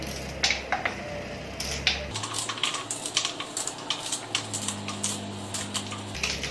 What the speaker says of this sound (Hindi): अब इसे हम मोटा मोटा कट करेंगे।